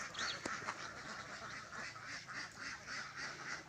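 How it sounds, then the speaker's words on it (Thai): Farm ducks near a rice field quacking in a steady chorus, repeated nasal calls overlapping at a moderate distance with no talking. "อันนี้เป็ด"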